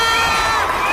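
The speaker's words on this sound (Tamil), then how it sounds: "ஒரு பலத்த கைத்தட்டல் போடுப்பா" A studio audience on a Tamil TV singing show breaks into applause and cheering, a brief, loud, dense burst of crowd noise.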